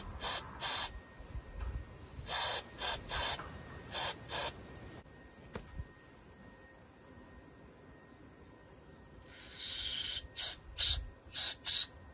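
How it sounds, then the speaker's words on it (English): Carb cleaner sprayed into the carburetor of a Briggs 26 hp V-twin Intek engine comes as a series of short sharp hissing bursts, close and fairly quiet, separated by brief pauses. "I'm going to spray carb cleaner through every freaking nozzle there is."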